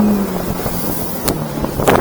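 A 2023 Fischer Pro Fish 1550 boat with an F70 outboard motor runs steadily at speed, a continuous engine drone mixed with wind and water rush, loud and close throughout.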